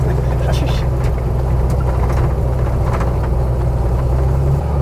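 A Ford F-100 restomod pickup fitted with a Chevrolet engine drives along, a steady low engine rumble and road drone heard from inside the cab, with people talking over it throughout.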